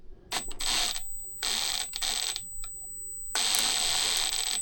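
Compact Milwaukee SubCompact driver run in several short bursts under load, each a loud buzzing whir with a steady high whine, separated by brief pauses and ending on a longer sustained burst.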